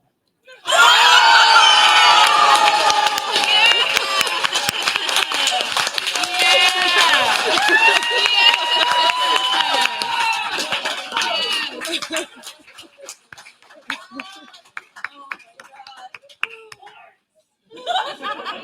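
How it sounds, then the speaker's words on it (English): A loud, raucous convention panel audience at DragonCon roars with cheering, whooping and clapping for about twelve seconds, then drops to scattered claps and voices before swelling briefly again. "with the raucous applause that we just heard"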